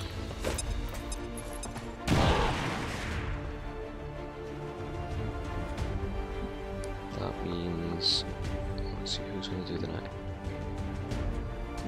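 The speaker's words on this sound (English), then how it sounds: "I'm gonna put the grenade on him just so I can take him out of cover." A grenade blast in XCOM 2, one sharp crashing explosion early on, then a lower roar over ongoing game sounds and music.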